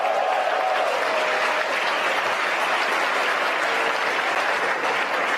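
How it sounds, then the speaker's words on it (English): Applause breaks out in SpaceX Mission Control during a rocket launch, a steady, moderately loud roar of many hands clapping that holds evenly throughout, with faint room tone and no clear voices. "You can hear the applause from Mission Control."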